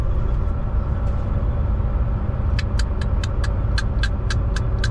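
Vehicles turning back on a road closed by a burning truck give a steady, close engine rumble, with a rapid run of sharp, evenly spaced ticks starting partway through.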